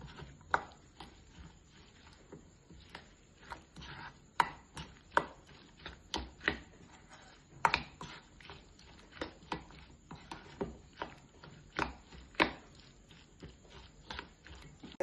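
Mango pickle being mixed with chili powder and asafoetida, heard as a steady run of sharp spoon-on-bowl taps and scrapes in an irregular rhythm, close and fairly quiet, with no talking.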